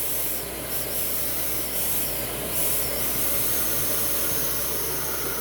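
A Metropolitan vacuum cleaner runs continuously during an airflow test, a steady, loud whooshing roar with a broad hiss and a constant low motor hum, unchanging throughout.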